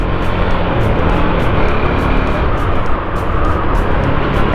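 A Husqvarna Vitpilen 401 motorcycle accelerates on the road with a loud, continuous engine drone and rushing wind noise, heard close and without a break.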